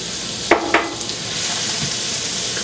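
A large onion and garlic fry in a pan over medium heat, a steady close sizzle punctuated early by two quick taps of a utensil, with no one speaking.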